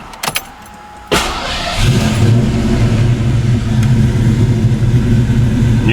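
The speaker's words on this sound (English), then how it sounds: "I'm just going to start the car up." A Fox Body car's engine cranks and catches after a couple of clicks, then settles into a loud, steady rumbling idle close by.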